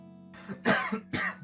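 A smoker's cough, a short rough burst of two or three harsh, throaty coughs with a bit of throat clearing, close and fairly quiet.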